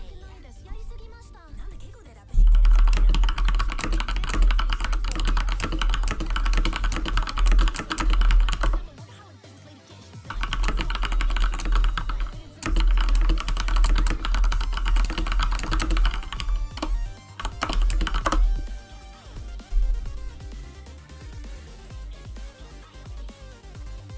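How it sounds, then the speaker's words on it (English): Rapid keyboard typing clatters steadily for long stretches, with brief pauses, while people talk over it. "I can hear his keyboard."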